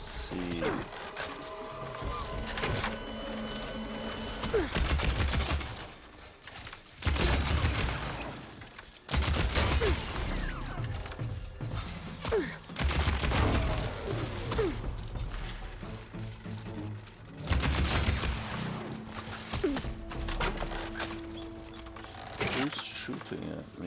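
Gunfire aimed at Aloy in the video game Horizon Forbidden West, repeated bursts of shots and clattering mechanical noises recurring every few seconds, with a person talking over much of it.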